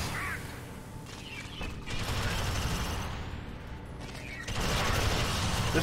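A sentry turret in Alien Swarm: Reactive Drop fires sustained rapid bursts, a steady mechanical rattle of gunfire that swells and thickens in the final seconds.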